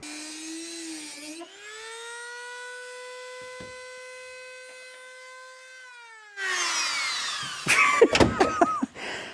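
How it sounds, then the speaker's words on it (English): A Dremel rotary tool grinds out rust repair on a Porsche 911, giving a steady high whine that holds for several seconds before breaking into harsher grinding with sharp clatters near the end. "I think I can finish that off with the Dremel."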